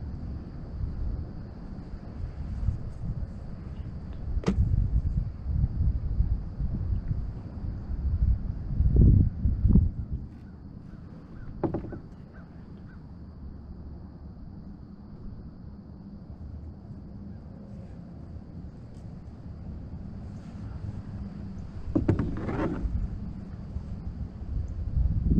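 Gusty wind blowing across a lake buffets the microphone in rumbling surges, loud for a stretch early on, then easing to a steady low roar before picking up again near the end.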